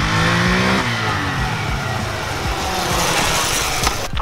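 A 2019 Honda Grom motorcycle with its exhaust removed revs up close by, the engine note sweeping upward before settling into a steady, loud running drone for several seconds.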